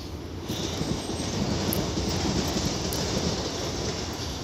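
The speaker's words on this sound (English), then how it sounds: "That is the train going to wherever it's going." A train rumbles past steadily with a broad roaring wash of noise and faint rhythmic clatter, fairly loud and continuous, no talking.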